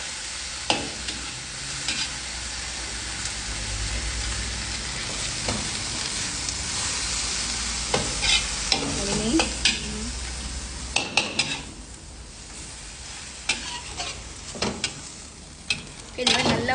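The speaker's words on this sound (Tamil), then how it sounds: "இந்த கீரையை நல்லா வதக்கிக்குங்க" Spinach greens sautéing in oil in a pan, a steady soft sizzle with repeated stirring scrapes and occasional sharp clinks of a utensil against the pan, close up, with no talk.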